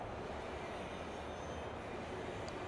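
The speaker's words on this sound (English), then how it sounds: "this looks like a train station in Europe" A train rumbles at a European-style railway station in the video game Bayonetta, a steady, quiet rolling drone with a faint metallic squeal near the end.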